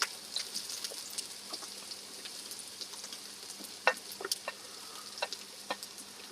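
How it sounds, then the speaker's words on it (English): Sliced onions fry in a hot pan for a meat-free curry, a soft continuous sizzle with scattered pops and crackles and occasional stirring, close and fairly quiet, with no talking. "Just put about half of these onions in there so they start cooking."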